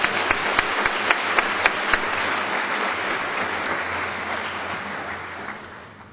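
An audience at an education awards event in St. Lucie County applauds, with sharp individual claps standing out early before the clapping blends into a dense wash that slowly fades.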